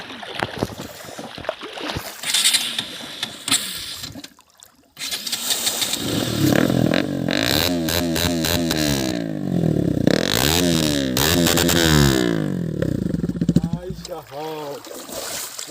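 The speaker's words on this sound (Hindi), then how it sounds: "उनके बाद पूरा रेविंग देंगे पानी को फाड़ते हुए" A motorcycle fitted with a cheap aftermarket exhaust revs hard while ploughing through water, loud wavering engine roar with splashing, after a brief pause near the start; people talk over the noise.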